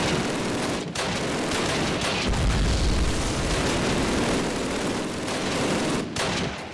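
A PPSh submachine gun fires in a Call of Duty game, rapid continuous bursts of loud automatic fire with heavy booming impacts, broken by a couple of brief pauses.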